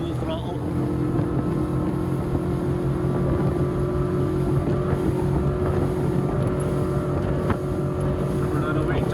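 A Zodiac Open 6.5 RIB with a Mercury 150HP outboard runs at full throttle, a loud steady engine drone with strong tonal hum, mixed with wind rush and water noise throughout.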